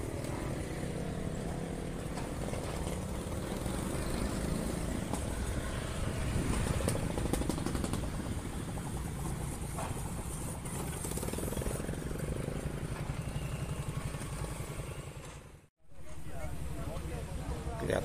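A Dongfeng DF4C diesel locomotive hauling a tractor for ballast work rumbles past Tegalluar station toward Rancaekek depot, a loud, steady engine roar filling the scene for most of its length before a sudden brief dropout near the end.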